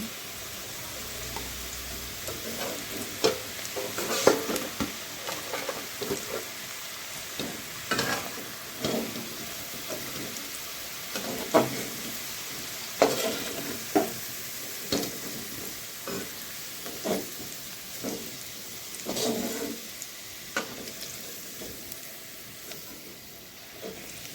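Carrots frying in oil in a pan: a steady low sizzle runs throughout, with soft intermittent scrapes and taps as the pieces are stirred and turned, and no talking.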